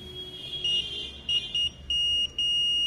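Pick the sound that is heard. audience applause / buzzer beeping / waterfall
buzzer beeping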